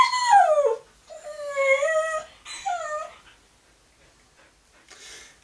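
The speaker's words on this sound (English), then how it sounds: "I'm gonna get the dogs out" Close by, several dogs let out long, falling howls and high whimpering cries in three drawn-out bursts, then a faint whine trails off.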